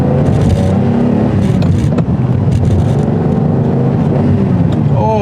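Stock-exhaust engine of a 1988 Ferrari Testarossa running steadily, a loud, close, dense low rumble with slight variations in revving throughout, and no clear speech over it.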